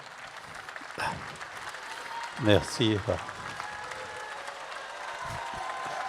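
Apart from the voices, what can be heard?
audience applause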